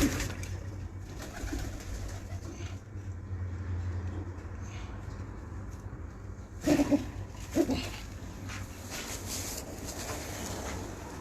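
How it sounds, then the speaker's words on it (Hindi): Pigeons coo softly in a loft over a constant low background hum, with a couple of louder bursts of nearby movement and fluttering partway through; no one speaks. "ये देखें कि ये कबूतर है"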